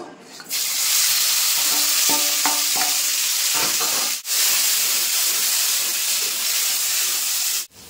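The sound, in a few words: frying boiled jackfruit seeds in oil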